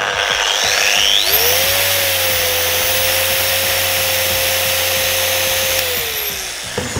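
Two mini polishers, a Flex XFE 7-12 80 and a Rupes LHR75E, run side by side at 5500 rpm. A steady, close mechanical whine and hum spins up in the first second, holds evenly, then tapers near the end.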